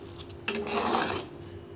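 A spatula stirs spicy chicken kasha in a pan, making a close burst of scraping and clattering that lasts under a second against a quiet background hum.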